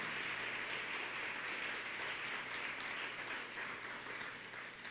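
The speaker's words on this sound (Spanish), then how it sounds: "Alguien dele un aplauso a Dios en esta hora." A church congregation gives a fairly quiet, continuous round of applause, a dense patter of many hands that holds steady for several seconds and then slowly tapers off.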